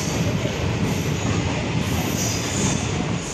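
A passenger train at Nalgonda railway station gives a steady, loud rumble of rolling rail cars with wheel noise and a faint squeal, continuous and without voices.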